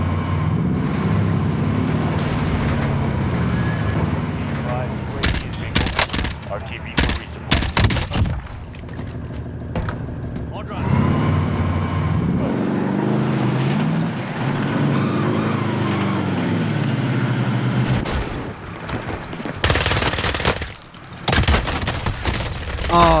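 JAK-12 shotgun fire in a video game, sharp loud blasts in quick clusters amid game effects and engine-like rumble, some shots in rapid bursts and others spaced apart.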